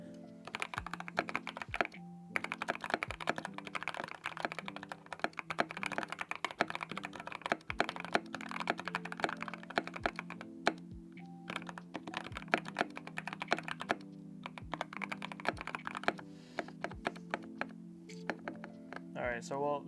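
Typing on a Skyloong GK68s wooden keyboard fitted with lubed Gateron Oil King switches and a greased space stabilizer, close and alone: dense bursts of rapid, deep creamy clacks with sharp spacebar thocks and short pauses between runs.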